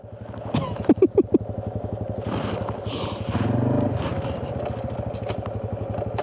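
A Honda CT125 motorcycle engine pulls away in first gear on a muddy ride, with a few sharp clattering knocks at first, then a steady close-up putter that swells briefly as the bike gets going.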